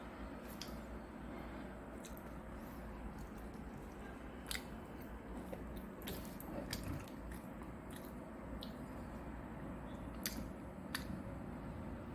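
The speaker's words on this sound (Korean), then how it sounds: "이제 제가 한 조각 먹어보도록 하겠습니다" Quiet close-up chewing and biting into a slice of homemade tortilla pizza with cheese, scattered crisp crunches and clicks over a faint steady background.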